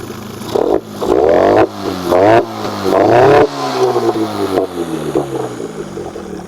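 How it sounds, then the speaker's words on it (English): An outboard engine on a Stryker LX380 inflatable boat with low compression runs close and loud, revving in uneven bursts with a rough, clattering tone before settling into a ragged idle. "Got the engine running."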